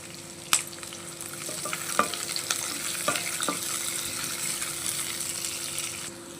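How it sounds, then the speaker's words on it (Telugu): Sliced onions frying in a pan for a hotel-style aloo masala dosa, a continuous bright sizzle with a few sharp clicks of a spatula scraping and stirring, close and steady throughout. "మనకి ఈ ఎర్రగడ్డలు అయితే మరీ ఫ్రై అవ్వాల్సిన అవసరం లేదు"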